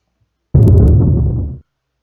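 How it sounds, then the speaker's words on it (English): A sudden explosion sound effect bursts in at full loudness, a dense roaring blast with sharp crackles that sustains for about a second and then cuts off into silence. "the explosion you just heard was just so I could get your attention"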